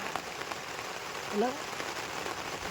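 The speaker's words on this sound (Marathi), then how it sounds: "बारीक पाऊस आहे" Light rain falling outdoors at night, a soft, steady patter with a brief voice-like tone in the middle, faint and continuous.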